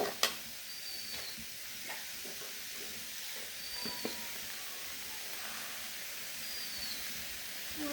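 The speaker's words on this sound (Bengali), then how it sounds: "এখন দিয়ে দিচ্ছি এখানে। মশলার সাথে মিশিয়ে নিচ্ছি।" Food with spices stirred in a frying pan, a soft continuous sizzle and hiss with a few faint stirring scrapes and clicks, quiet and close, no voices.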